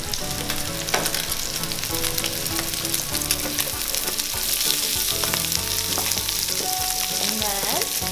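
Onions frying with chicken in a hot pan for fried rice, a steady loud sizzle with stirring scrapes and clatter, close up and without speech.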